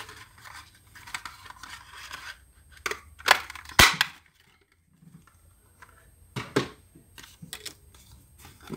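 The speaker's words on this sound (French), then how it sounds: "je vais prendre une perforatrice étiquette, je vais découper dans mon papier orange" A label paper punch cutting through orange paper, several sharp snapping clicks and crunches in short clusters separated by quiet pauses, close and fairly loud, with no talk.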